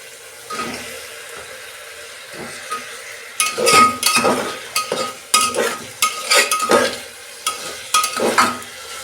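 Chicken pieces with ginger and mixed vegetables frying in a pan, with repeated close clanks of a spatula against metal and a steady sizzle that grows louder after the first few seconds.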